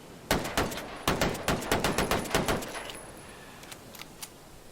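M1911 .45 pistol in Ghost Recon Breakpoint fired in a quick string of about a dozen sharp shots, close and loud, each with a short echoing tail, followed by a few faint clicks and no voices.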